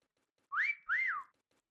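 A person whistles two short rising-and-falling notes, close and clear, during play of the Meccha Chameleon video game, with silence around.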